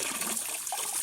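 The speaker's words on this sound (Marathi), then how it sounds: "पाणी काढतो आधी" Water trickles and splashes out steadily for a moment as it is drained to catch fish, close by, a continuous wet gurgling flow.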